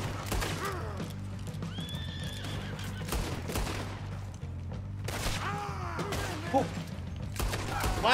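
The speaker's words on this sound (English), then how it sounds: "The horses are running away." Several horses whinny and neigh in turn over a steady low rumble, with sharp bursts of gunfire-like cracks scattered through.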